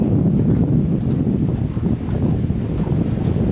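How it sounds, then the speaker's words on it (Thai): Strong cool wind gusts over an island in the middle of Nong Han lake in Sakon Nakhon, roaring as broadband buffeting against the microphone for several seconds, steady and loud with no voices. "ลมเย็น ลมจะแรงเป็นบางช่วงนะครับ"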